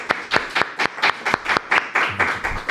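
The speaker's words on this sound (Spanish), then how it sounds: "que recibamos con un fuerte aplauso a nada más y nada menos que el ministro de Trabajo, Luis Miguel de Camps" An audience claps in sharp, evenly spaced beats to welcome labour minister Luis Miguel de Camps on stage, the rhythm steady and close.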